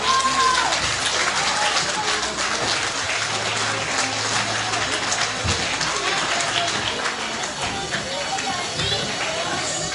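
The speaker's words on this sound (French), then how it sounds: "on les applaudit fort s'il vous plaît" Loud crowd applause at an evening label award ceremony, a dense, continuous rain-like clatter of many hands, with voices calling out beneath it throughout.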